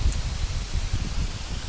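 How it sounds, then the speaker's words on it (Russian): Steady gusty autumn wind in a forest rushing with rustling leaves, a continuous low buffeting roar close to the microphone, no voices. "Какой ветрище, а?"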